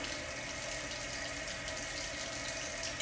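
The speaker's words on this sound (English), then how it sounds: "right now I'm just rinsing them off and getting most of the water off of them" Tap water runs steadily into a kitchen sink while lasagna noodles are rinsed, a continuous close hiss and splash with no talking.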